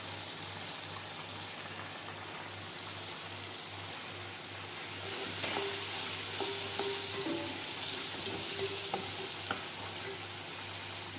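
Mixed vegetables frying in a pan, a steady close sizzle and crackle that runs throughout, with faint stirring clatter partway through.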